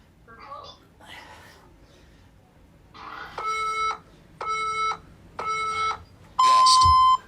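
A workout interval timer sounds a run of three identical electronic beeps at a steady pace, then one longer, louder tone, all following some brief talk at the start.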